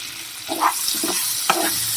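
Whole spices frying in hot oil in a pan for a cauliflower curry: a steady, close sizzle with a few sharper crackles and stirring scrapes, no voices.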